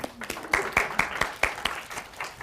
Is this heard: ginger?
no